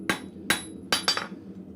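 A blacksmith's hammer strikes hot square stock on an anvil to stretch a taper, four sharp ringing blows with the last two close together, loud and near with no talking.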